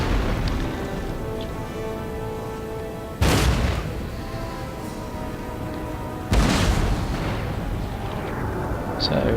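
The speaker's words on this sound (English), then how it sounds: "So we've got early exchanges of artillery fire" Artillery fire in the strategy game Empire Total War: two loud booming cannon blasts several seconds apart, each with a rolling tail, over a continuous battlefield rumble.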